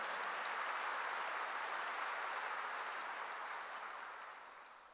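Congregation applause during a church sermon, a dense, steady wash of clapping from a fairly distant crowd that tapers off at the end.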